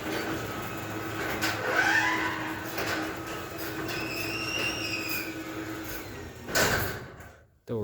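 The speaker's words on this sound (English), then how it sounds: "Door is loud. I do need to lubricate it" A loud, unlubricated sliding door dragged along its track at home, grinding and squealing for several seconds before a thudding stop and a brief bang near the end.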